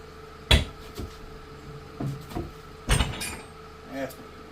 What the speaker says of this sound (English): That's the sound of the powder coat coming off the wheels right there.